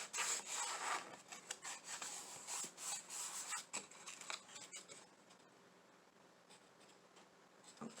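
Steady rubbing strokes work a product into a Dollar Tree DIY craft piece, with close, scratchy friction for about five seconds before it quiets to faint, sparse scrapes.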